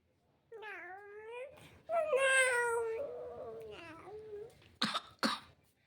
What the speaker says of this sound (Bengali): কাশছিস কেন আবার